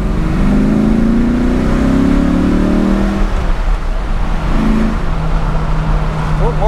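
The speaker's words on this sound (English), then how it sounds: "We'll do one more acceleration, like moderately." 1993 Mustang Cobra accelerating moderately through first and second gear, a loud rising engine note that drops at the shift and climbs again, heard from inside the car.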